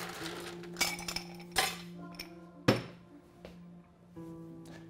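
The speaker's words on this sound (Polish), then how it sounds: "Schładzam szkło." Ice cubes clink and rattle in a cocktail glass as it is chilled before mixing a Bond-style Stinger, a few sharp, ringing knocks and chimes close by over a steady low hum, with no talking.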